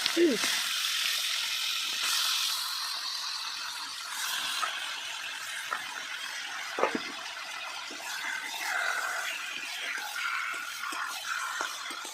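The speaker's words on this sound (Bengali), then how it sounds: "আলু ভাজার তেলে মাংসটা দিয়েছে, আর মাংসটা একটু ভালো করে ভাজবো" Meat frying in oil left over from frying potatoes, a soft continuous sizzle and crackle under a voice talking, with occasional faint utensil clicks.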